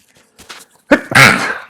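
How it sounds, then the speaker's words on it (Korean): A lecturer teaching Korean administrative law lets out a short, sharp cough close to the microphone, followed by a harsher, longer cough, after a moment of near silence. "그 처분에 불복할 때에는 기침이 나."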